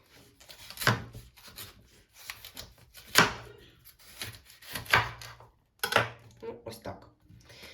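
A knife slicing the top off a cabbage on a wooden board, several separate crisp cutting and thudding sounds spaced apart, close up, with faint background noise between them.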